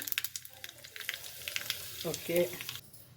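A tempering of mustard seeds, cumin and asafoetida sizzles and crackles steadily in hot oil for a village-style tomato saaru. A brief voice surfaces near the end.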